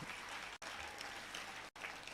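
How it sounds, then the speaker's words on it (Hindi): An alumni meet audience at a school gives a donor a hearty round of applause, a dense, even wash of clapping broken by two brief cuts. "तो एक बार जोरदार तालियां उनके लिए"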